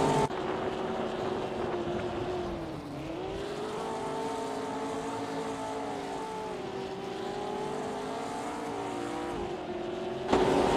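Vintage Formula Junior race cars in a racing video game drone steadily at close range, engine pitch rising and falling through gear changes, continuous and fairly loud throughout.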